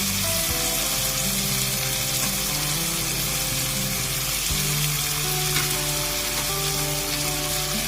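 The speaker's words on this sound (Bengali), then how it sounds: "দুটোই খুব হালকা, তাই জন্য একসঙ্গে দিলাম, অল্প ভাজলেই হয়ে যাবে।" Yard-long beans and eggplant fry together in a pan, giving a steady, loud sizzle through the whole stretch, with faint tonal background sounds underneath.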